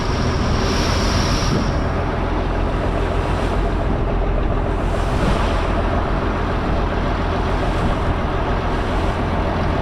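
A fishing boat heads out of Pankot creek into large sea waves, giving a steady, loud wash of engine rumble and rushing water that continues unbroken throughout.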